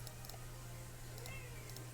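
A pet cat meows faintly over a steady low electrical hum, its short calls spaced apart in a quiet room.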